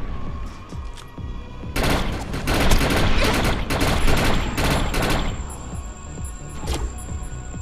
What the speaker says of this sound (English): Come on, automatic shotgun.